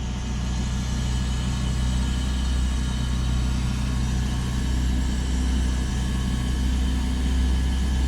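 Generator engine running steadily close by, a constant droning hum with a layered low tone that holds even throughout, no talking over it.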